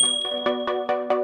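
A notification bell dings in a quick run of five or six bright metallic strikes, close and clean, each ringing briefly before the next.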